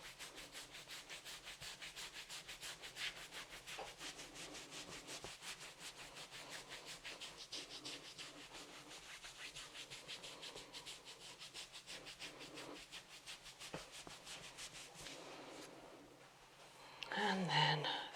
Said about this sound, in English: And moving to a rubbing technique if needed.